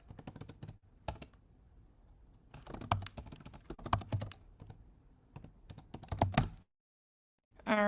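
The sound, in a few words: typing a password on a computer keyboard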